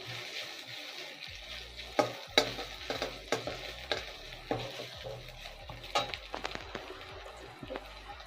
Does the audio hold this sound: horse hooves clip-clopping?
no